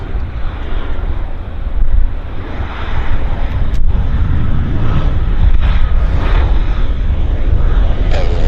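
A plane landing at Vancouver airport, YVR, a steady broadband roar with wind buffeting the microphone, holding at a fairly even level across the whole stretch without any voices.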